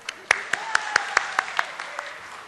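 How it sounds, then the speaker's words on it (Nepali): A handful of separate claps ring out at a steady pace to welcome a guest on stage at a comedy show, fairly close and sparse rather than a full crowd ovation. "उहाँलाई जोरदार तालीका साथ स्वागत गरौँ।"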